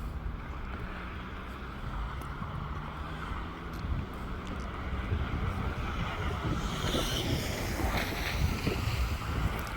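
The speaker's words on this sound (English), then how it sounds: "It's windy," Wind blows outdoors after a snowstorm, a steady broadband rushing and buffeting against the microphone that swells slightly stronger toward the end, with no voices.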